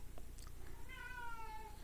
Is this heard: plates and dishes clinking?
no